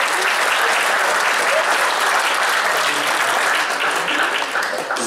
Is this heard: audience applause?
yes